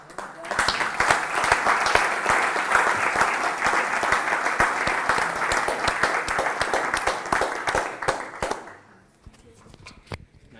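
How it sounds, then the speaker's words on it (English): Lively audience applause at an annual general assembly preparation session, a room of people clapping with sharp individual claps standing out, lasting about eight seconds before dying away to a few scattered claps. "I think that deserves a clap."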